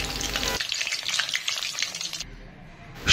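Pieces of shol fish fry in oil with a dense, close crackling sizzle that holds steady for about two seconds and then thins out.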